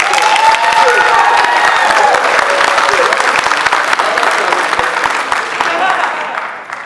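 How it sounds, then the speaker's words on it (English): Steady, loud applause from a crowd, continuous clapping with some cheering, slowly tapering toward the end. "can we give a round of applause for these guys?"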